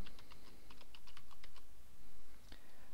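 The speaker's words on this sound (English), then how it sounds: "You type in the database name." Fingers tap out a name on a computer keyboard in quick, quiet bursts of separate key clicks, followed by a pause and one final sharper keystroke.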